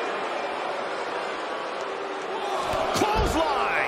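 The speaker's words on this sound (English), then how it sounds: "Clothesline! Well, that'll leave a mark." A clothesline strike in the WWE 2K20 wrestling video game hits with a loud, low slam near the end, followed by a second thud. Crowd noise roars steadily throughout, and a commentator talks over it.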